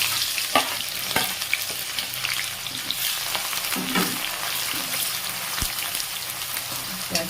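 Finely chopped onions sizzle steadily in a pan with bay leaf, red chilli and garam masala, a close, continuous crackling fry with occasional stirring scrapes and no talk.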